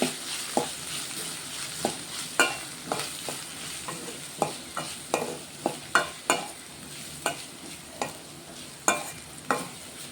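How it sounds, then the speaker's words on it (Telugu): A spatula stirs carrot fry seasoned with turmeric and fenugreek in a pan, knocking in a steady rhythm of sharp scrapes and taps over a soft continuous sizzle. "కొంచెం పసుపు వేస్తున్నా ఇదంతా ఒకసారి కలిపిస్తున్నాం"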